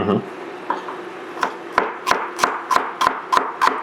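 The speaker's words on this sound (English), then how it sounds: "And then just chop it like that size" Knife chopping celery into small pieces on a cutting board for award-winning chili, a steady run of crisp, close chops speeding up after a few scattered cuts, with no talk over them.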